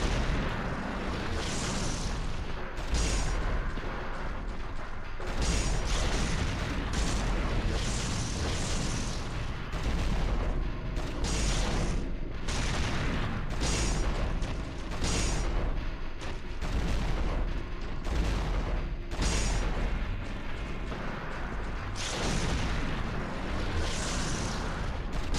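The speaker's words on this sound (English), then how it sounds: "I'm trying to grenade spam." Grenade explosions fired off repeatedly in Devil May Cry: a long, dense run of booming blasts and bursts that keeps loud and busy throughout, with no voices heard.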